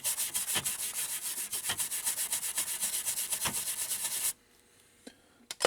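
A brush scrubs flux off a circuit board during a repair of a 1983 Bally Midway Spy Hunter arcade machine, giving a steady rhythmic rasping for about four seconds before it stops, leaving a few faint taps.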